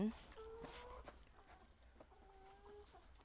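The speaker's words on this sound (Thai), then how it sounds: "ไก่ที่เราเลี้ยงนี้นะคะ เป็นไก่พันไข่นะคะ" Scattered soft clucks and short calls from laying hens on a school farm, with a brief rising squawk at the start over a low background hum.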